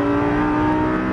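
A Lamborghini Gallardo LP570-4 Superleggera accelerates on a race track, a loud, sustained engine roar with a steady high-pitched tone, close and continuous for about a second.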